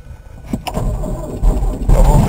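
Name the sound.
Toyota car engine cranking and starting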